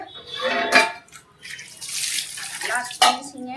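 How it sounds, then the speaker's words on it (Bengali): Water splashes as brass and copper utensils, just cleaned with lemon and salt, are rinsed. Bursts of running and pouring water come close up, and a voice is briefly heard. "জল দিয়ে ধুয়ে রেখে দিচ্ছি"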